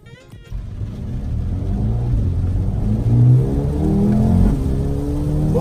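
Mercedes-AMG A35 engine revving hard, its deep loud rumble rising and falling with sharp machine-gun-like exhaust pops, heard up close and continuous throughout.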